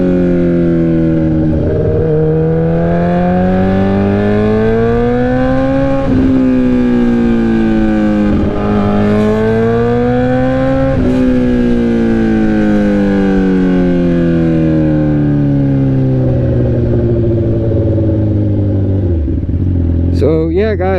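A Suzuki GSX-R 1000 sport bike engine revs hard and close, its pitch climbing and dropping in repeated throttle sweeps over about twenty seconds, loud and steady, ending with a brief clatter.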